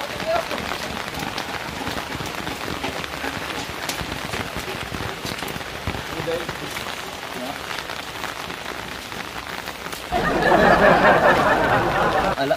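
Rain falls at night while a motorcycle is ridden, a steady broadband hiss running throughout and growing louder and denser near the end.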